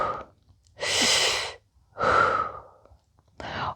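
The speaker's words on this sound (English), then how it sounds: "You can start breathing here." A person breathing deeply during a standing side-bend stretch, with three loud, close, audible breaths, long airy exhales separated by short quiet pauses.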